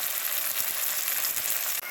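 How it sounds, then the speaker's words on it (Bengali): Spice masala for a fish curry fries in a hot pan, giving a loud, steady, close sizzle that runs without a break and cuts off sharply near the end, with no talking. "মশলা করছি।"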